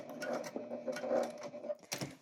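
Sewing machine stitching across a scrapbuster pillow top, running back over existing stitch lines; a steady close mechanical whir with short pauses and restarts.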